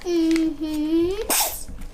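A child's drawn-out vocal sound leads into a sharp, sudden sneeze, close and loud, followed by quiet.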